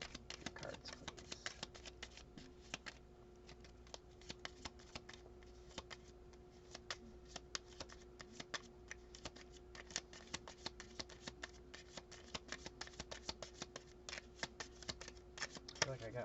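Tarot cards being shuffled by hand during a reading: a steady run of quick, crisp riffling ticks and soft slaps, fairly close, with a low constant hum underneath and no talking.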